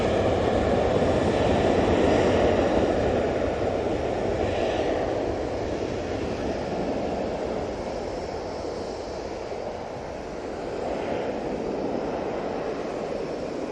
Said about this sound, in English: Off to Skiathos we go with this TUI